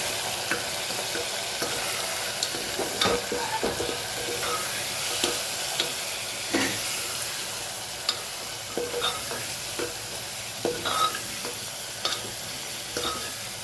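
Spice masala with coriander-cumin powder sizzling in a pan for dal makhani as a spoon stirs it, a continuous frying hiss broken by repeated scraping and knocking strokes against the pan.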